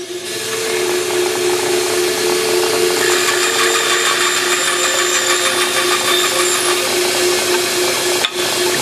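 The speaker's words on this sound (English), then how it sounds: "then we'll turn the bandsaw on, and we'll take it through the bandsaw until the bandsaw blade gets into the kerf right here" A bandsaw runs loud and steady, cutting wood for a tenon with a continuous whining buzz for several seconds, then briefly dips near the end.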